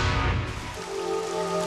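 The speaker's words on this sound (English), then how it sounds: "there's nothing Ben can do about the rain" Steady rain falling outdoors, a dense broadband patter that stays loud throughout, with a low tonal hum entering partway through.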